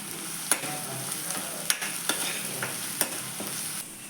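Spices, turmeric, salt and coriander-cumin powder stirred in a pan with a spoon, a gentle sizzle underneath and a steady series of light scraping strokes and taps, close and fairly quiet with no voices.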